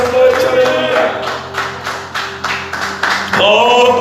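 A church congregation claps in a steady rhythm, about eight or nine beats, with voices singing or calling out underneath.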